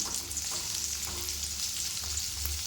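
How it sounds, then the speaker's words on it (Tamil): Onions, ginger, green chilli and curry leaves fry in a pan for rava upma, making a constant close sizzle with faint stirring scrapes and no talk. "வெங்காயம் கொஞ்சம் வதங்கட்டும்."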